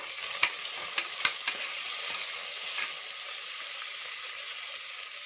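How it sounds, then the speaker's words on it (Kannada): Curry leaves and one large sliced onion frying in a pan for a fresh pigeon pea sambar, a light, even hiss with a few crisp clicks of stirring early on, then steady sizzling alone. "ನೋಡಿ, ನಾನೀಗ ಕರಿಬೇವು ಕೂಡ ಸೇರಿಸ್ತಾ ಇದ್ದೀನಿ. ಹಾಗೆ 1 ದೊಡ್ಡ ಸೈಜು ಈರುಳ್ಳಿನ ಸ್ಲೈಸ್ ಆಗಿ ಕಟ್ ಮಾಡಿ ಹಾಕೋತಾ ಇದ್ದೀನಿ. ಈಗ ಚೆನ್ನಾಗಿ ಫ್ರೈ ಮಾಡ್ಕೊಳ್ಳೋಣ"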